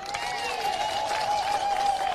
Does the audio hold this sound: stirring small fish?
no